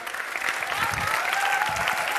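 Strong applause for young folk dancers at a dance competition final, dense clapping from a crowd filling the space, with a faint sustained tone rising underneath.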